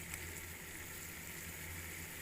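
Water added to a pan of eggplant and potatoes cooking for baingan rice gives a steady, quiet sizzling and bubbling hiss, uniform throughout.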